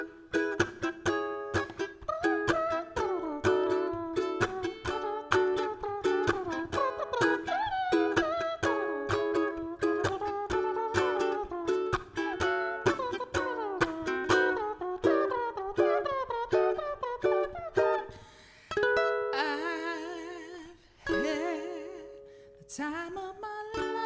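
Ukulele strums the sax-solo chorus of a song, with steady chords at a lively even rhythm and short melodic runs and held notes near the end, played close and alone with no voices.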